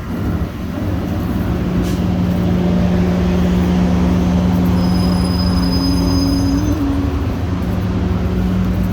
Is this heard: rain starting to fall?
no